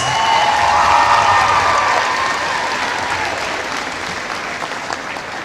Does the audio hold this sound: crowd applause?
yes